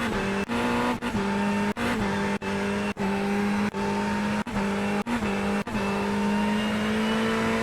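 Race car in the iRacing sim at the Bathurst 12 Hour, engine droning loudly and changing pitch, cut by repeated sharp gear shifts about every half second to second, with tire noise underneath.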